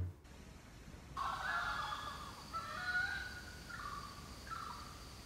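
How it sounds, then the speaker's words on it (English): Orange-footed scrub fowl give loud, drawn-out calls at night, the cries starting abruptly after a quiet moment and carrying on in overlapping, wavering phrases that stay fairly close and steady. "Every night I heard these birds making these really loud calls."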